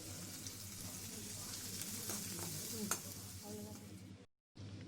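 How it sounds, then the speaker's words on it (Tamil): Onions sizzle in hot oil in a pan with occasional stirring scrapes, a steady close frying hiss that cuts out briefly near the end before resuming. "இப்போது வெங்காயம் சேர்த்துக்கோங்க. வெங்காயம் சேர்த்து நல்லா வதங்கட்டும்."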